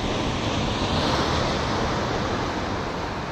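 Strong ocean waves surging against slippery rocks at a fishing spot in Salalah, Oman, heard as a loud, continuous broadband roar with wind noise and no voices.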